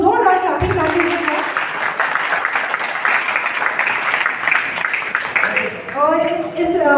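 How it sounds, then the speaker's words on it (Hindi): Audience at a school annual day celebration applauding a children's dance performance, loud sustained clapping that swells and holds for several seconds, with a voice speaking at the start and again as the applause fades. "तो एक बार आप मेरे बच्चों के लिए ज़रूर जोरदार ताली बजाइए।"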